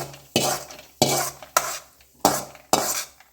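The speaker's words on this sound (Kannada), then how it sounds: "ಇದನ್ನು ಬಾಣಲೆಯಿಂದ ತೆಗಿತಾ ಇದ್ದೇನೆ." Roasted cashews being scooped out of a pan with a spoon, five distinct scraping, rattling scoops at an uneven rhythm, close and clear with no talk.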